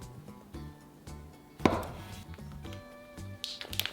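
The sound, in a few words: knife cutting egg tofu into half-inch rings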